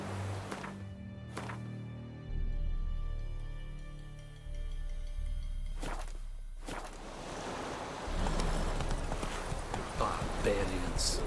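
Geralt's horse Roach clops and gallops across the ground in The Witcher 3 game. Rhythmic hoofbeats come and go amid wind and rustling, with a voice calling out to the horse.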